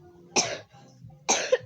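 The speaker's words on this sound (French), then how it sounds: "J'ai envie de tousser encore une fois." Two sharp coughs, close and clear, separated by about a second of quiet.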